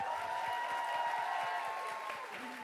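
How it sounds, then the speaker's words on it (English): Audience clapping at a beauty masterclass event, a moderate round of applause with individual claps audible, a sustained tone and faint background murmur running under it. "I just wanted to come on and give my mum a round of applause"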